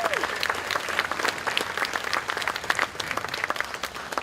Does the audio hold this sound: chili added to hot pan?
no